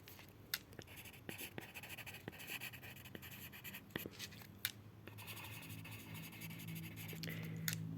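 Pen scratching out a math answer on paper: steady close scratching with sharp taps and ticks scattered across eight seconds, quiet and unbroken by talk.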